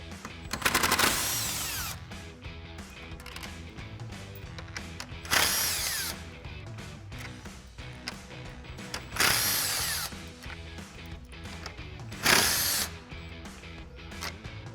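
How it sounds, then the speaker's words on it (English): Impact driver with a 10mm socket zipping grille screws off a 2021-2023 Ford Bronco, four loud whirring bursts with short hammering rattles, separated by quieter shop background. "we'll grab our 10mm socket on our impact and run these off"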